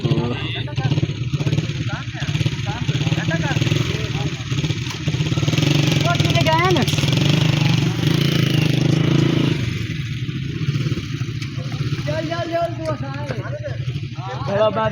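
A motorcycle engine idles nearby with a steady low rumble and some clattering, while people talk over it for much of the time.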